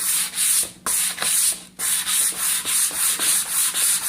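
Repeated back-and-forth strokes of sandpaper rubbing lengthwise along a wooden board with the grain, a steady rhythmic scratchy hiss with brief pauses between passes, close and fairly loud.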